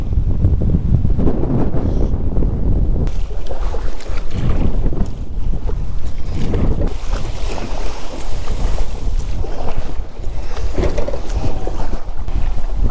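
Strong wind buffeting the microphone on a river from a kayak, a loud continuous roar with gusts and water noise throughout, no voices.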